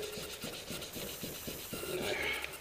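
A cam cover is hand-sanded with 800 grit sandpaper: soft, close, rhythmic back-and-forth rubbing strokes, about two per second, fairly quiet.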